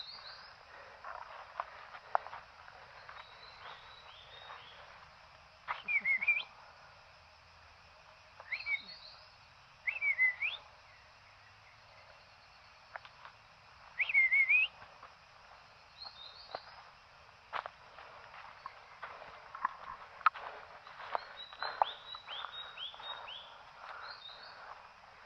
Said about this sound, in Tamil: கச்சாங்குருவி, அதோட சத்தம்.